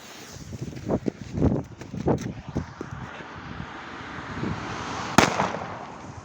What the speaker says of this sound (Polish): Jest petarda od triplexa.